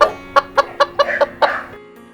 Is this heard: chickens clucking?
yes